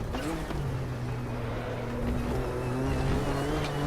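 Classic GTO race car engine droning steadily at Zolder in the RaceRoom racing game, a sustained tonal engine note with slowly shifting pitch, continuous and up close.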